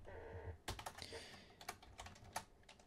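Quick bursts of keystrokes on a computer keyboard, close and quiet, with irregular clicking taps and short pauses between them.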